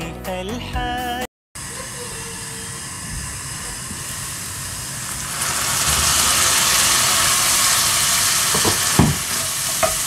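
Onions frying under a lid in a covered pan, a steady broadband sizzle that swells louder partway through, with a few brief clatters near the end and a short gap early on.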